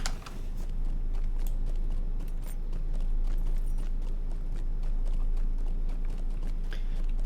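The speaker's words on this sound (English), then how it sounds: "Get on our horse." Horse hooves clip-clop steadily through the Lord of the Rings Online game, a quick even rhythm of close, moderately loud hoofbeats over a constant low hum, with nobody talking.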